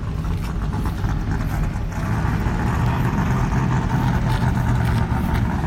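A roughly 4,000 horsepower Proline Racing V8 drag racing engine, tuned for a drag strip, holds a steady, dense rumble at moderate distance, continuous and unbroken with no talk over it.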